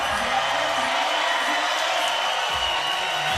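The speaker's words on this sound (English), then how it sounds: "This crowd is getting loud." Loud, dense crowd roar fills a 3x3 women's basketball pool game between Spain and Great Britain at the FIBA 3x3 Europe Cup, steady and unbroken throughout with a few faint cheers poking through.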